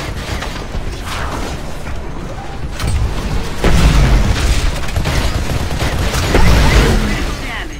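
Enemy gunfire in the Titanfall campaign during a refuelling raid, steady rattling shots and heavy booms hammering loudly and continuously, with a voice speaking over the din.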